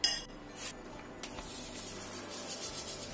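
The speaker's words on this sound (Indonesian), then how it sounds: "kita aduk sampai rata, semuanya tercampur." Spoon scraping and clinking against a bowl while chicken bouillon powder and sugar seasoning are stirred together, a quiet run of rubbing strokes with a few sharp taps.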